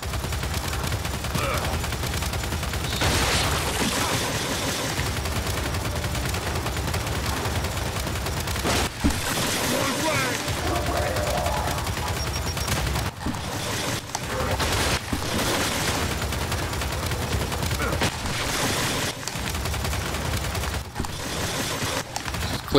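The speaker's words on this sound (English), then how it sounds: "Someone get on that turret!" Heavy automatic turret gunfire in the video game Gears 5, a dense, continuous loud barrage of rapid shots with brief gaps and booms, mixed with game action noise throughout.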